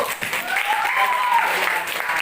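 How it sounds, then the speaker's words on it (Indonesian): Schoolchildren in a classroom clap together in a short burst of applause, with a voice speaking over the clapping. "Oke, tepuk tangan dulu."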